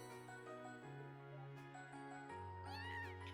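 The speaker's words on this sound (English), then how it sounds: "Hier ist die schwarze Katze." A black cat in the video game The Legend of Heroes: Trails of Cold Steel gives a single high meow near the end over soft, sustained game music.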